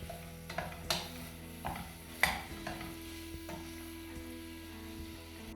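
Onions stirred in a frying pan for bangers and mash onion gravy, with a low steady sizzle under scattered scraping and clinking strokes of a utensil against the pan, close and fairly quiet.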